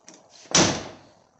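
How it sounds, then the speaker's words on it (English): A single firm slam as the door of a 3rd gen Camaro or Firebird shuts after new door pins and bushings were fitted, close and sharp, followed by a short fading ring. "Now the door closes perfect."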